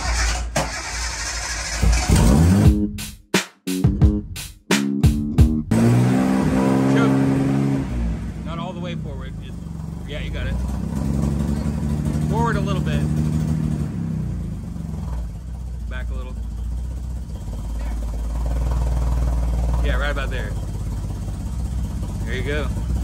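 A 1974 Datsun 260Z, fresh from carburetor work, cranks in choppy bursts, then catches and settles into a rough, loud idle indoors, with people talking over the running engine.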